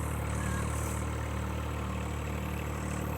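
A John Deere 1025R tractor spins a PTO-driven generator in a steady, loud, unbroken drone with a low engine hum and a constant mechanical whine, running alone without any pauses or changes in pitch.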